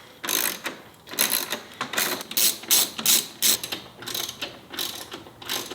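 A ratchet backs out 8mm and 10mm headlight bolts on a Ford Bronco, making close, loud bursts of rapid clicking in a stop-and-start rhythm with short pauses between strokes.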